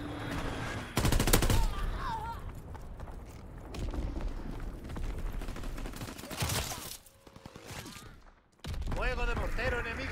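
Call of Duty WWII machine-gun fire rattles in dense, loud bursts mixed with mechanical clanks and other battle noise, with a brief lull before the firing resumes, and game voices call out over it.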